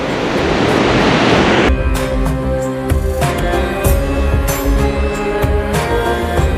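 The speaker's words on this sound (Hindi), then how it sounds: "पानी की आवाज़ आपको ऊपर तक आ रही होगी।" Rushing river water near Gaurikund on the trek toward Kedarnath, a loud continuous broadband roar that holds steady throughout, heard close by with no talking.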